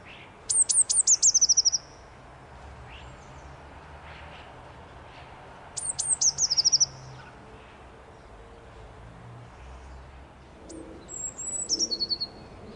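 Blue tits call from a garden feeder in three bright, rapid bursts of high chirping notes, with quiet background ambience between the calls.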